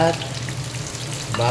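Onion and garlic frying in a pan as they are stirred, giving a steady close sizzle with soft stirring, and a brief voice at the very start and end.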